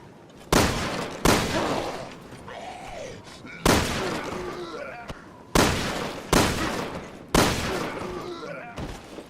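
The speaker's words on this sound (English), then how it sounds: "3 shots from the P10 to take down an afflicted" P10 gunshots fired at an afflicted enemy in the video game Resident Evil: Revelations 2: six loud, close shots at irregular intervals, some in quick pairs, each followed by a short decaying tail and faint creature groans.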